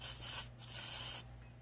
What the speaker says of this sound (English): we're just putting some carb spray on it because we don't have Varsol